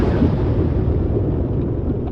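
A loud, dense low rumble of an explosion sound effect fills the space steadily for a couple of seconds, broad and boomy with no distinct onset, fading only slightly at the top.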